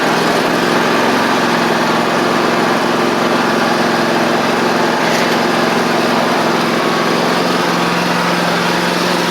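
A Toro TimeCutter SW4200 zero-turn mower, fitted with a swapped 50-inch deck that has fallen off its brackets, runs with a loud, close, unbroken engine drone and a high whine throughout, with no talking.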